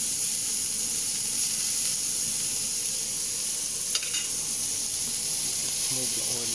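Venison steak sizzles steadily in hot oil in a pan, a constant close hiss throughout with a small clink partway and faint speech near the end.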